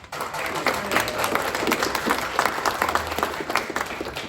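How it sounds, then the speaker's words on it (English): Audience at a musical theater workshop celebration giving a big round of applause, many hands clapping steadily at moderate volume, with a few louder individual claps. "Huge round of applause"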